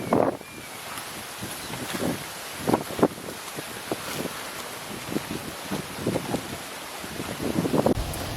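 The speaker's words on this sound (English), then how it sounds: "Hear the water lapping against the boats." Water laps and splashes irregularly against boat hulls in Portugal, soft sloshing bursts over a steady rush of wind noise outdoors.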